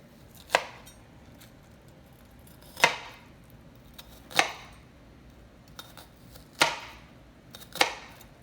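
A knife chops onions on a cutting board in a home kitchen, six sharp, separate knocks spaced about a second or more apart, close and clear against a quiet background.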